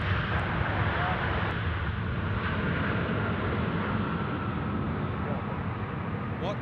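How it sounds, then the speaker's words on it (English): A steady, loud roar of an aircraft arriving on the runway at Sydney Airport fills the whole stretch, constant jet noise with no breaks, heard close and alone. "What a first arrival on runway left"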